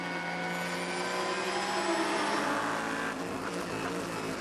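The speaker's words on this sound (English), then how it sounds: "Aston Martin V8." Aston Martin V8 sports car at full effort during an FIA WEC endurance race in Bahrain: a loud, sustained engine roar with steady harmonics and a slight pitch shift as it passes, no talk over it.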